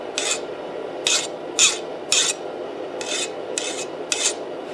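A metal file rasps across the unquenched tang of a newly made knife in seven short, bright strokes, each scrape sharp and close, with a quiet hum underneath.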